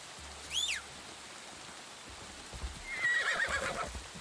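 In the video game Assassin's Creed Shadows, a horse gives a sharp short whinny and later a longer, wavering neigh over soft rain and quiet hoof clops, fairly faint overall.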